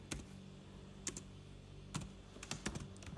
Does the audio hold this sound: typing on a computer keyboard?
yes